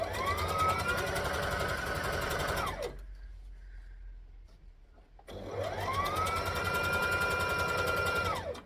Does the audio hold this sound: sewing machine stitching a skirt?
yes